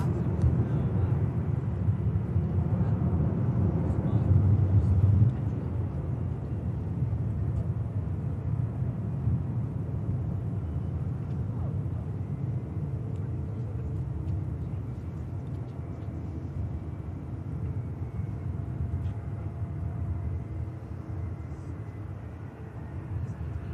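A business jet lands at Manchester Airport with bucket thrust reversers deployed, a continuous low, fairly distant roar that swells briefly early on and then slowly fades.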